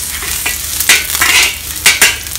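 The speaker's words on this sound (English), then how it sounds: "Leave about 1 tablespoon of oil in the wok and let's fry the ginger." Ginger fries in about a tablespoon of oil in a wok, a loud, close sizzle broken by a few bright scraping stir strokes against the metal.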